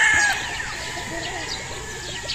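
Young battle stag roosters on a farm, a rooster's crowing call ringing out near and loud at the start, then fainter clucks and farmyard bird calls in the background.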